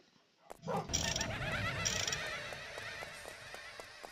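A real dog barks and whimpers nearby, off-game, during a Roblox gaming session: a few sharp yaps and a strong burst of barking, fairly close and loud over quiet room sound.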